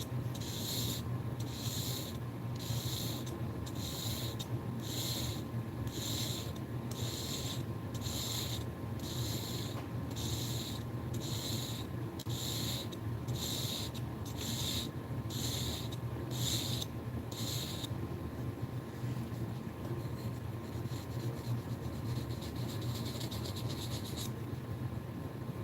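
A kitchen knife is sharpened on a whetstone with about fourteen evenly paced, quiet scraping strokes, each a soft gritty swish, before the rhythm stops and only faint room noise remains.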